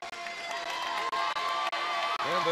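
A crowd at a wrestling match cheers and roars loudly and steadily throughout, a dense wash of voices with brief dips, while an announcer talks over it.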